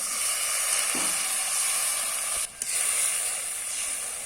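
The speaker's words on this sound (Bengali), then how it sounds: "জল দিয়ে দিচ্ছি পরিমাণ মতো" Water is poured into a frying spice masala for a cabbage and egg curry, producing a steady, close, loud sizzle with faint stirring, a brief dip in the hiss partway through, and no speech.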